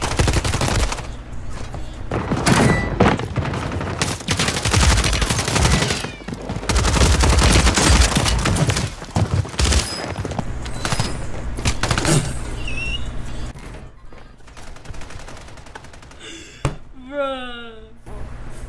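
Video game gunfire crackles in loud, close bursts of rapid shots that are heavy at first and then thin to sparser reports, with talking mixed in and a brief whooshing game effect near the end.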